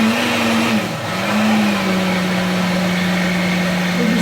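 A food processor runs steadily, mixing a batch of food for long-term emergency storage, its motor whine dipping briefly then holding a loud, even drone throughout.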